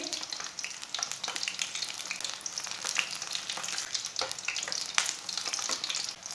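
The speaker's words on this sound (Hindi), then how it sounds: "ऑयल को मैंने 2 मिनट तक गर्म कर लिया। ये पत्ते इसमें डाल लेंगे। ऐसे डिप कर करके इसमें डाल लेने हैं।" Batter-dipped spinach leaves frying in hot oil for pakora, a steady close crackling sizzle with scattered pops and no one talking.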